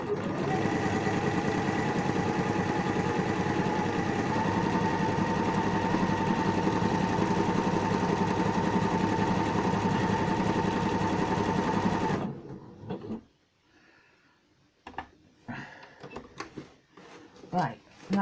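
A domestic sewing machine runs a steady satin stitch on an appliqué test piece with orange thread, a continuous loud mechanical whirr for about twelve seconds, then stops, leaving faint handling clicks and rustles.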